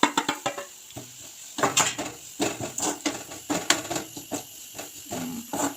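A spoon scrapes and taps against a pan while chili, coriander and garam masala powders are stirred together, giving irregular clinks and scrapes in short bursts, close and fairly loud.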